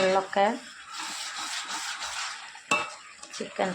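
Chicken frying in its own gravy in a pan over a wood-fired stove, stirred with a utensil that scrapes and clinks steadily through a continuous sizzle, with a voice talking at the start and end.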